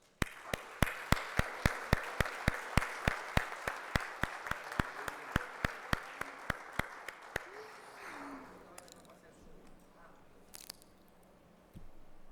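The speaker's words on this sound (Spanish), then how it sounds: "podemos celebrarlo con un cálido aplauso" Audience at a book presentation applauds to celebrate Ellis Pérez's birthday: sharp, evenly spaced claps ring out close for about seven seconds, then die away into a quiet room with a few stray taps.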